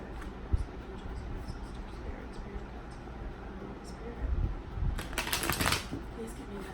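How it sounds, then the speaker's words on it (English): Tarot cards are shuffled, with a brief papery riffle burst late in the clip rising above a low, steady room hiss; otherwise quiet and close. "I'm going to go ahead and shuffle now"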